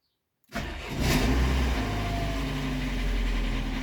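A car engine cranks and catches after a moment of silence, then settles into a steady, loud running idle with a mid-pitched hum, heard up close at the start of a farm workday.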